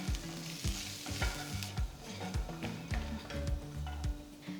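A spoon scrapes and turns a walnut and soya chili mixture seasoned with salt, pepper and chili powder in a pan, giving steady rhythmic stirring with a light sizzle over soft background music.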